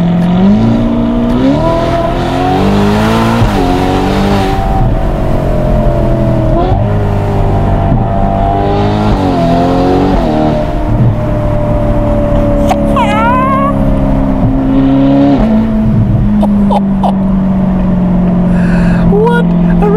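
A Novitec-tuned Ferrari Portofino M drives and revs, its engine note climbing and dropping through repeated accelerations, loud and close throughout without talk.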